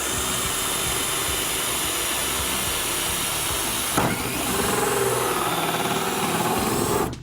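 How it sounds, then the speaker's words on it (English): A hole saw on a power drill cuts into an acrylic panel, giving a continuous close, loud motor whine that shifts into a harsher grinding tone partway through as the teeth bite into the sheet, then cuts off abruptly. "I'm going to show you how to use a hole saw."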